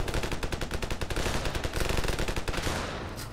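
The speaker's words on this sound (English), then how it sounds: "Who are you shooting at?" Rapid automatic gunfire from a Ravenfield battle, several bursts of quick repeated shots crackling loud and close, continuing almost unbroken before tapering off near the end.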